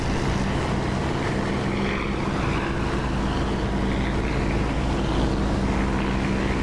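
Loud, constant propeller aircraft engine drone from a DCS flight simulator, a dense steady roar with no other sound.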